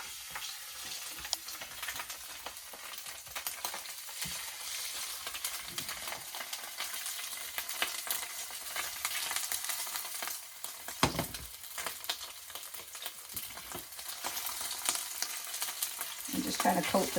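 Salmon fillet searing in olive oil in a fairly large pan, a steady bright crackling sizzle throughout with a few sharper pops, close and moderately loud, no talking.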